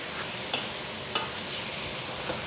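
Parsley and onions roasting in a pan, stirred now and then, give a steady soft sizzle with a few faint scraping strokes.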